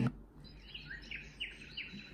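A white noise machine for babies plays a nature-sounds bird song track, a run of short, faint, repeated chirps and rising whistles over a soft hiss.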